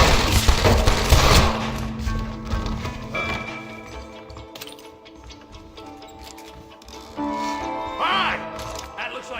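Gunfire in the Western video game Red Dead Redemption, with a dense burst of shots up front easing into scattered reports, game music and effects running underneath.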